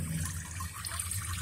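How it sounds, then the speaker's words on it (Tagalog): Steady running water pouring and splashing continuously, close and fairly loud, with no voices. "Ang ganda ng tulo ng tubig."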